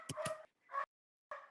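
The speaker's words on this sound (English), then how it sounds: "if you guys can just hear the dogs barking, because that would be annoying" Dogs barking outside, a few short, faint yips and barks in quick succession with brief pauses between them, distant and alone.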